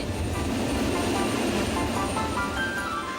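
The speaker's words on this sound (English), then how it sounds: "when the suitcases and the people are on the plane, it's time to take off" An airplane taking off, its engine roar steady, loud and unbroken from start to finish.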